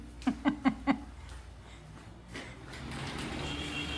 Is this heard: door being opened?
yes